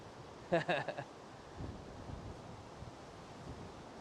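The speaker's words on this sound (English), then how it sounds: "But winter is often this windy, right?" Wind gusts and surf rumble along the Sea of Japan coast at Hinomisaki in winter, a low blustery roar with soft wave wash, preceded by a brief high-pitched bird-like twitter near the start.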